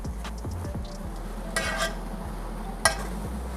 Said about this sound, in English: Fry that up nicely.